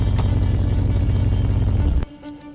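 A car engine runs at a steady, loud idle rumble in Car Mechanic Simulator 2021, cutting off abruptly near the end followed by a few faint clicks.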